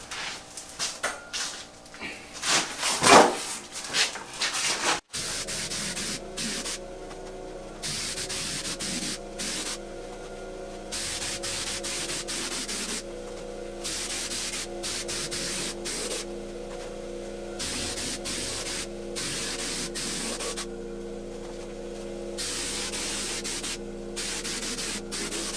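An air compressor set to about 65 drives a hopper gun spraying mortar mud onto a spalling concrete basement wall. A brief rustle gives way to a long, steady, loud spray hiss over a low mechanical drone.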